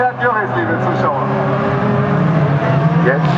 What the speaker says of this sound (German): wenn die Autos jetzt hier durchkommen, dann ist es die letzte Runde